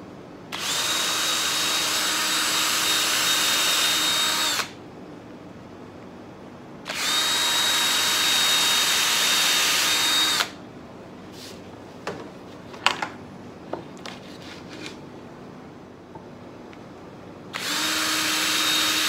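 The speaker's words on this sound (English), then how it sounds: "So I'll set the camera up and I'll drill out a few of these holes for you." Power drill boring holes for drawer handles in wooden drawers of a sideboard, three sustained loud bursts of several seconds each separated by pauses with faint clicks and small tool handling noises between them.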